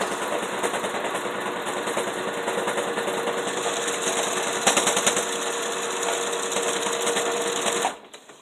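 A sewing machine runs continuously at speed, its rapid needle chatter loud and close as it back stitches a pad bag with a plastic inner liner, before stopping abruptly near the end.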